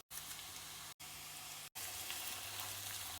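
Chopped onion and carrot sizzle in vegetable oil in a frying pan for a bolognese sauce, a close, steady crackling hiss broken by two short gaps.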